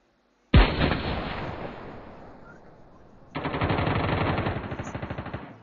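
Close, loud gunfire in Call of Duty Mobile: a sharp burst hits hard and trails off. After a short pause a second sustained volley of rapid shots follows, with no talking.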